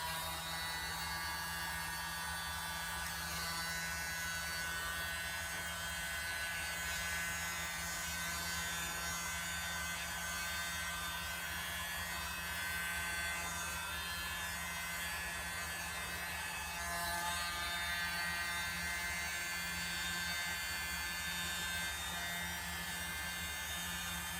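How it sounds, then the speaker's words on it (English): A small electric blower runs steadily during a paint-pouring craft, a continuous faint whirring buzz with a low hum, unchanging throughout and with no voices. "So I'm going to be using my little blower."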